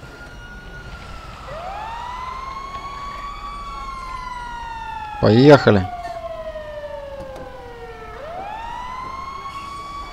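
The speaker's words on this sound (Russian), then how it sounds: "Это я, кстати, включил сирену" Fire truck siren in GTA V: a wailing siren sweeps up and down, joined briefly by a sharp burst of yelping tones mid-way, while a voice speaks a short word.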